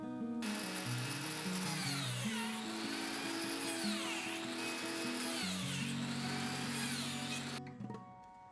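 A power drill-driver whines steadily close by while driving screws into 10mm melamine board kitchen cabinet parts, its pitch rising and falling in long sweeps before cutting off near the end.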